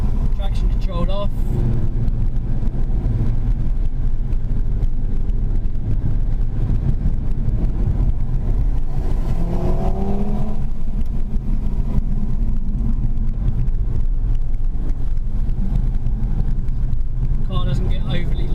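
A 2017 Audi TT RS, all-wheel drive with traction control off, pulls hard on a road over a hill crest, its engine a steady loud drone with wind noise throughout and a rising tone midway, while someone talks over it.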